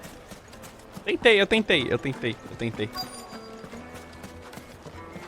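Horse hooves clip-clop and a horse neighs in the video game Final Fantasy XVI, loud and close with a rhythmic trot, under a man's speech and background game music.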